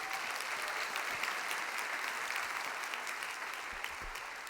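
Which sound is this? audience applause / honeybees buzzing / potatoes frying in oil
audience applause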